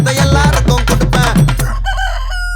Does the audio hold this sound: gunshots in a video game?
no